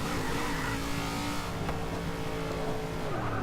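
A Ram Runner truck in the Forza 6 racing game drones with a steady engine tone and a faint tire squeal, the pitch shifting slightly as it slides through a turn.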